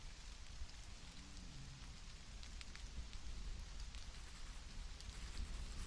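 Rain falls steadily in the Stranded: Alien Dawn video game, a dense even patter of drops on surfaces with a low rumble underneath, continuous and moderately soft with no talking.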